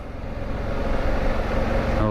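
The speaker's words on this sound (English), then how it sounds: "The engine sounds solid." A motorcycle engine runs steadily and fairly loud at close range, with a continuous low rumble holding even through the moment.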